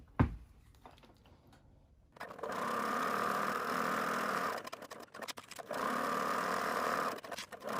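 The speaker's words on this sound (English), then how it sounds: "I'm going to start at one end and just sew all the way around." A sewing machine stitches a seam around a vaccination card holder, running in a fast steady whir for several seconds, pausing briefly, then resuming close by.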